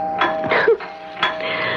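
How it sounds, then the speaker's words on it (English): A back doorbell in a radio drama rings out with a few bright chiming tones in quick succession, clear and fairly close, with no talking over it. "Why does the back doorbell always ring when you're at the front?"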